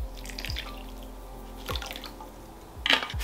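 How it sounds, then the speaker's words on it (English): Water dripping and trickling as it is poured for a tarantula in its enclosure: a few faint, separate drips and small splashes spaced about a second apart, quiet and close with no voices. "we're gonna go ahead and give her some water as well"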